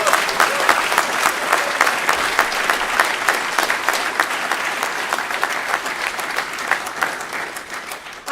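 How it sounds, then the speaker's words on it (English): Sustained applause from the audience at a class of 1999 silver jubilee reunion, dense, even clapping from many hands that carries steadily for the whole stretch and tapers slightly at the end. "A big round of applause for the class of 1999"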